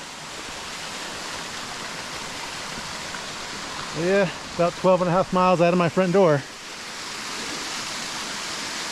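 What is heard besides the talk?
seasonal waterfall flowing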